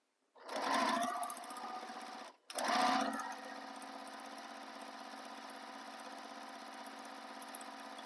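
A sewing machine stitches along the full length of a handmade bag strap, starting with a short burst, pausing briefly, then running in one long steady whirring pass close by.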